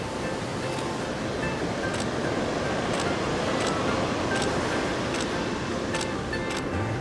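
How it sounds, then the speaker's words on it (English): Ocean surf breaking on a beach at a bikini photo shoot, a loud steady roar of crashing waves with a wind-buffeted hiss throughout and faint voices here and there. "With those waves behind you is awesome."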